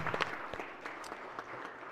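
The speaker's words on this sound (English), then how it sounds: "let's give him a round of applause" A brief round of applause in a Senate chamber during a floor session, faint and distant, a soft wash of clapping with a few sharper hand strikes.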